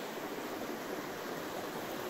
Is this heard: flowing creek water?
yes